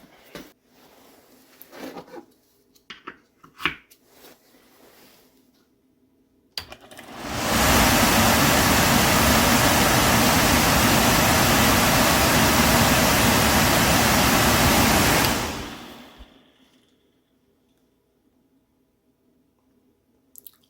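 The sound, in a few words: old York furnace motor running after repair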